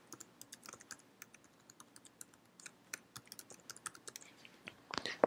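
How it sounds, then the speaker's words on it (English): Typing on a computer keyboard while entering a username, password and email: a quiet, irregular run of light key clicks with short pauses, ending in a quick burst of several keystrokes. "Type in your password and type in your email address."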